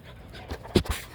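A Labradoodle puppy pants in a few quick, soft breaths close by during evening play, with no talk over it.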